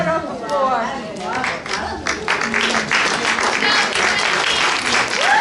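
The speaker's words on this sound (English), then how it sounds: "Let's hear a hand of applause for these guys." An audience claps and cheers for photographers at a studio tour gathering, dense applause that starts over someone speaking and then carries on alone, loud and close.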